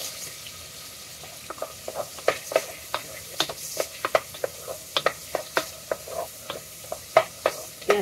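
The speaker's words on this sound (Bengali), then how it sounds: "আমি এটা দিয়ে নেড়ে দিব।" Onions frying in a pan sizzle steadily while a utensil stirs them, producing a rapid series of sharp scraping knocks against the pan over a constant hiss.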